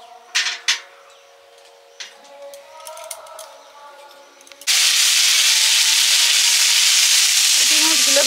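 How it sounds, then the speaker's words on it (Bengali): Small puti fish fry in a pan: a few faint clatters and soft kitchen noises give way to a sudden, loud, steady hiss of sizzling oil that continues to the end. "পুঁটি মাছগুলো ভেজে নিয়েছি"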